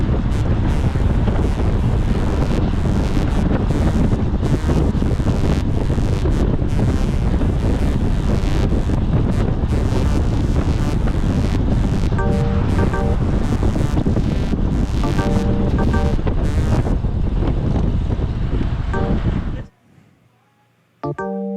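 Heavy wind roars across the microphone of a road cyclist riding outdoors in an aero position. The loud, steady buffeting rumble lasts about twenty seconds, then cuts out to near silence and briefly returns.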